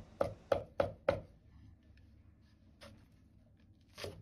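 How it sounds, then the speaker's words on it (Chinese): A cleaver chops smashed garlic and ginger on a cutting board: four sharp, evenly spaced knocks in quick succession, then a pause and two more isolated chops, close and crisp against a quiet kitchen. "大蒜和生薑適量，先拍破，這個剁碎就可以"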